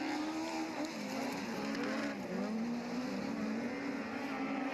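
Rallycross race cars battling at Montalegre, the 107 car leading the 104: a loud, continuous engine note rising and falling with gear changes and throttle, with tyre noise, heard without talk.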